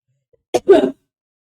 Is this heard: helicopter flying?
no